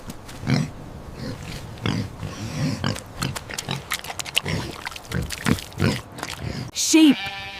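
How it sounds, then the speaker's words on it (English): A pig grunts and oinks in a run of short, irregular snorting bursts, fairly close and loud, ending with a brief higher squeal. "It's a pig."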